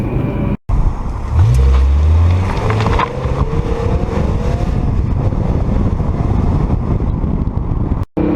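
A BMW E60 M5's V10 engine pulls while driving, a loud, steady drone with rising harmonic sweeps as it accelerates near the start, then a constant rumble through the rest, broken by two brief dropouts.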